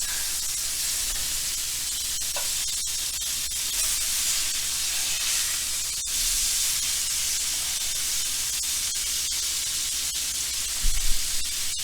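A beef chuck underblade steak sears in a pan with butter, giving a steady, loud hiss and sizzle with small crackles throughout and no talking.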